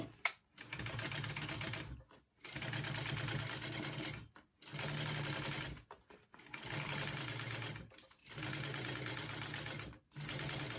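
A sewing machine stitches a shoulder bag in several steady bursts of rapid, buzzing needle clatter. Each run lasts a couple of seconds, with short quiet gaps between runs, close and fairly even in loudness.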